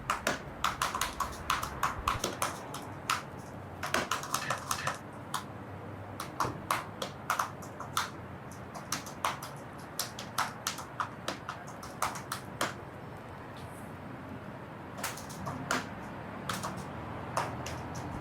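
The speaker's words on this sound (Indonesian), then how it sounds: "suara keyboard jadi satu-satunya hal yang bikin gue inget kalau gue masih ada di dunia nyata" Steady typing on a computer keyboard at night, a continuous run of quick, crisp key clicks with irregular rhythm and occasional heavier strokes, close and moderately quiet, with no voices.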